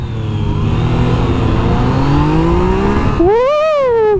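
A 2017 Yamaha FZ-09 motorcycle accelerates hard under throttle, its engine note climbing steadily and loud for about three seconds, then snapping to a higher wavering whine as it revs on, close and alone without talk.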